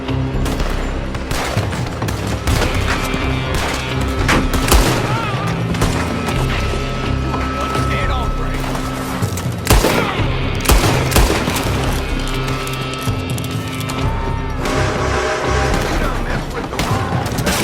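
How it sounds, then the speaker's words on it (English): Dense gunfire in Red Dead Redemption 2, rapid overlapping shots and booms in near-continuous volleys, loud and sustained, with shouting voices and music mixed underneath. "They're shooting from that building."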